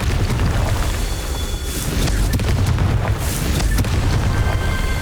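A Confringo fire spell blasts in Hogwarts Legacy on Nintendo Switch, a loud, dense, rumbling boom that roars continuously through the moment with crackling bursts layered over it and no talking.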